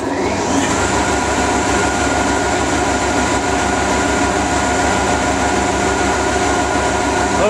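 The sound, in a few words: three-phase generator being turned on and running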